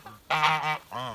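Loud honks from moulting geese, a long harsh blaring call followed by a shorter one, close by with no talking.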